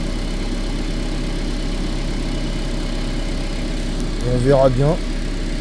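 A car engine idles steadily to warm up for a radiator check on a vehicle with 300,000 km, a low constant hum under a man's speech, with a brief rise in level near the end.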